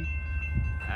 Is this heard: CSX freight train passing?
yes